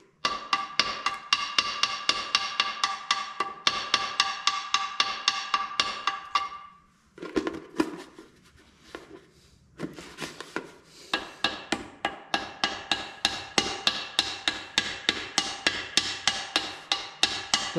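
A ball peen hammer strikes gasket material in rapid, steady taps, a long run of sharp metallic-wooden hits that pauses briefly in the middle, then resumes at the same quick pace.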